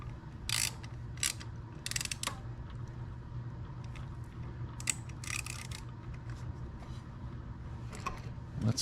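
A ratchet loosens a screw on a Vance & Hines VO2 air intake being fitted to a motorcycle, giving several short bursts of fast metallic clicking separated by pauses, fairly close and clear.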